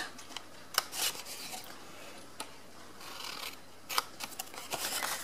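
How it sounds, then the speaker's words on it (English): Scissors trim away pieces of paper for a handmade card, a run of close, crisp snips and rustling paper strokes with short pauses between cuts. "And then on this edge I'm trimming away just these pieces."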